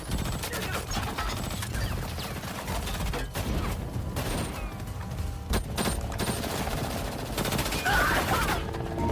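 Gunfire erupts in an exchange during a film action scene, dense bursts of automatic and single shots layered with clanking mechanisms and impacts, loud and nearly continuous throughout.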